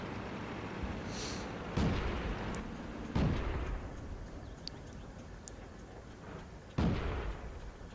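Tank cannon shots in a tank video game, light tier 3 T-127 premium tank firing at an enemy's gun mantlet: three loud sharp booms spaced a few seconds apart over steady engine rumble, with small distant pops between.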